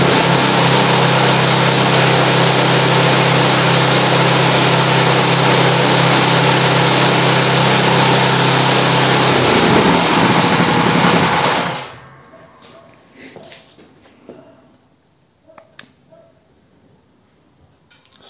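A tractor engine runs at full throttle in fourth gear, a loud, steady, close roar that holds for about twelve seconds and then cuts away to near silence with a few faint knocks.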